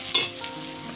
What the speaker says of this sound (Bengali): হলুদটাকে দিয়েও একটু নেড়ে ছেড়ে নেব।